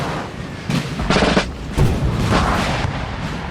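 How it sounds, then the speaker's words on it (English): Howitzer and musket fire in the Napoleonic battle game Napoleon Total War, several heavy booming reports and crackling volleys spaced across a steady battlefield rumble, fairly loud with no talking. "We've got a howitzer going off as well back here"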